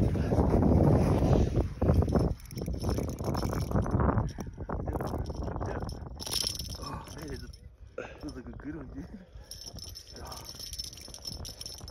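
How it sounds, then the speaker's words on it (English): Wind gusting across a frozen lake during an ice fishing tournament, a loud rushing roar at first that eases to a steadier breathy hiss, with faint clinks and voices talking underneath. "Wind starting to pick up."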